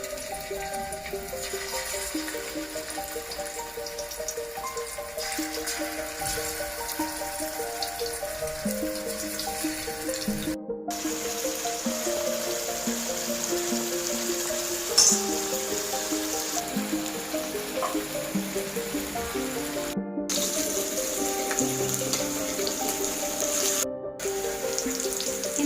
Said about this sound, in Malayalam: വെളിച്ചെണ്ണ നന്നായിട്ടൊന്ന് ചൂടായിട്ടുണ്ട്. അതിൽ നമുക്ക് മീനൊന്ന് ഇട്ട് കൊടുക്കാം.